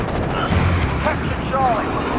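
A cruise missile strike in Call of Duty Modern Warfare Ground War: a loud, sustained, rumbling blast roars steadily throughout, and a voice is heard under it.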